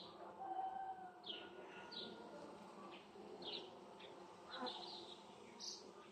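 Honeybees from a colony newly split off a strong hive hum faintly and steadily around the hive, with a few soft bird chirps scattered in the background.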